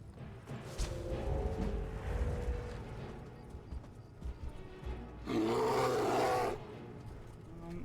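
A bear in the Skyrim video game lets out a single rough roar about a second long, standing out over a low, rumbling game background with no talking.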